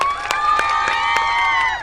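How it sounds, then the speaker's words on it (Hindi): A crowd of college students cheering and clapping, with sustained high shouts and a few sharp hand claps cutting through, loud and close, over about two seconds. "लेकिन मैं आपको सुना देता हूँ, तालियों के जरिए आप सुन पाएंगे"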